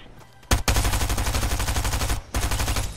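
Automatic gunfire in Fortnite, two loud close bursts of rapid shots, the first long and the second short after a brief gap, with no talking.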